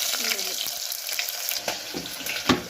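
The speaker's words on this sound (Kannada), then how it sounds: "ಸಾಸಿವೆ ಸಿಡಿತಲ್ವ" Mustard seeds splutter in hot oil for a tempering, giving a steady hiss broken by scattered sharp pops, with a louder burst near the end.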